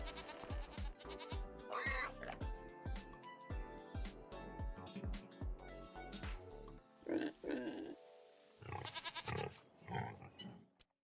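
Goats bleat repeatedly in Farming Simulator 25, a run of loud, close, wavering calls that overlap and tumble over one another, then a few separate bleats after a short pause.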